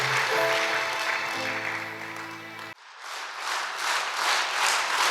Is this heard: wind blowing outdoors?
no